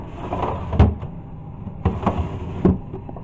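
A plastic refrigerator drawer slides open and shut, giving two pairs of sharp clunks and rattles with a short gliding rub between them, close to the microphone, with no talking.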